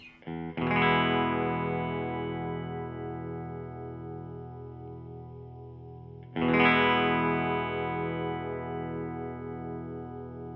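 Epiphone 1956 Les Paul Goldtop electric guitar played through delay and a little amp reverb, with two sustained strummed chords, each ringing long and slowly decaying with a shimmering echo tail.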